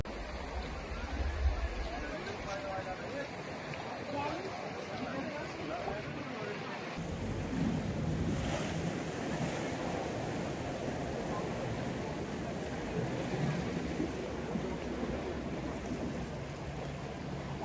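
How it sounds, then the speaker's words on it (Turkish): Sea surf and rushing water from a sudden, unusually strong tidal surge along the shore, heard as a steady broadband wash that swells louder partway through, with no voices. "Çok hızlı ve sert bir şekilde bir gelgit olayı oldu."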